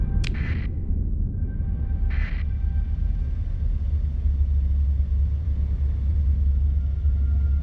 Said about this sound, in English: Oh man, we are getting storm hit so hard.